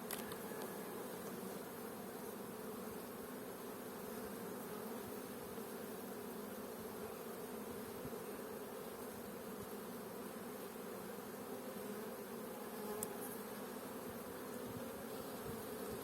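Honeybees at a weak nucleus hive with a single frame, checked in April, keep up a faint, steady hum. The buzzing runs continuously and alone.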